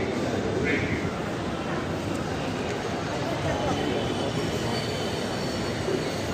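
A Mumbai metro train rumbles into the station with a steady, loud, broadband roar, under a crowd of waiting passengers and chatter, the noise holding level throughout.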